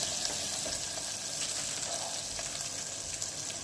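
Masala frying in hot oil in a pan while cooking a drumstick (shevga) handi curry, a steady, close, dense sizzle that continues throughout with no voices.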